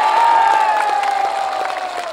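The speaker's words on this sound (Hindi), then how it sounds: "जोर से ताली बजा दीजिए।" Applause from an audience at a Vivah Panchami festival Dhanush Yagya gathering, a steady broadband clatter of many hands with some crowd noise, loud and close, easing slightly toward the end.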